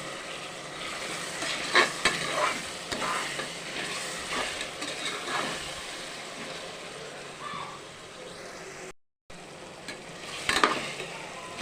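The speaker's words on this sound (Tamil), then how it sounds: "இஞ்சி பூண்டு போட்டாச்சு அந்த வாடைக்கு கொஞ்சம் நேரம் நல்லா வதங்கணும் ஒரு அரை வெங்காயத்தை போட்டோம்" Ginger, garlic and onion sautéing in a pan for mushroom biryani: soft sizzling with intermittent stirring scrapes, close but fairly quiet, briefly cut off near the end.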